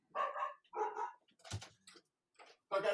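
Dogs bark in short, close, loud bursts in a room while they are being wrangled, with brief quiet gaps between the barks.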